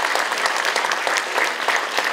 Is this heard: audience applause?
yes